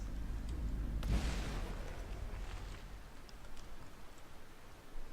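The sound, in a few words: tank cannon firing shells, From The Depths video game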